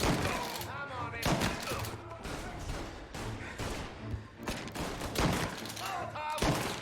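Rapid gunfire bursts and fusillades from a shootout in Mafia: Definitive Edition, loud repeated cracks trading back and forth while voices shout over the battle.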